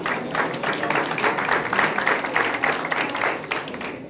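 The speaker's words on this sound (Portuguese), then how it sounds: "Yo les pido que recibamos con un aplauso a Pablo Mauricio Selig." A lecture audience claps to welcome a speaker onstage, a full, steady burst of many hands that swells and pulses slightly in intensity across the few seconds.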